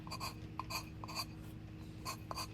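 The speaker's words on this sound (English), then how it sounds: "just applying my file to the piece" Faint scratchy rasping strokes, a file drawn repeatedly over the edge of a trivet piece in short bursts on the downward stroke, quiet and close with uneven rhythm.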